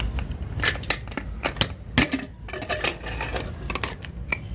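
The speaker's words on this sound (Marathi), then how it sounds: "कुकर आता आपला थंड झालेला आहे आता आपण झाकण उघडून बघू" A cooled pressure cooker holding chicken biryani, on a wood-fired chulha, has its lid opened: a run of sharp metallic clanks, scrapes and clicks, close and fairly loud, with no talk.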